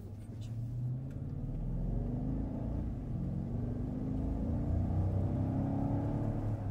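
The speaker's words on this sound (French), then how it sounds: "Marie, assis-toi bien parce que tu vas voir, ça va rouler fort." A luxury car costing 350,000 euros new drives fast, its engine a steady low rumble and whir with road noise and a rising rev, heard from inside the cabin for several seconds.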